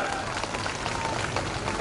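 A crowd at a Raksha Bandhan gathering in a slum settlement claps for the Prime Minister, a dense, continuous burst of applause heard close, with voices mixed in.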